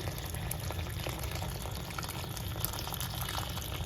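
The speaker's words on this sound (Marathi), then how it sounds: "उकळतच पाणी ओतायचं म्हणजे पटकन होते" Hot, just-boiled water poured into a pot of dal khichdi, a steady, close, continuous rush and bubbling of liquid lasting several seconds with no talking.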